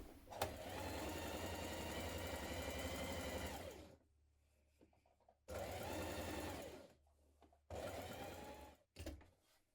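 Sewing machine stitching along a chalk line on a blouse front, running in three steady rapid bursts, the first long and the others shorter, with quiet pauses between and no talk.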